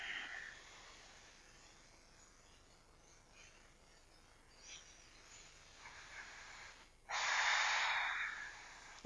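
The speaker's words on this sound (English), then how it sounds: "We'll take a couple more deep breaths here." Slow deep breathing during yoga practice, a long soft breath, then a pause and a louder, sharper airy inhale near the end, close to the microphone with no talk.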